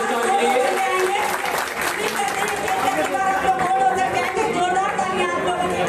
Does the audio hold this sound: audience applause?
yes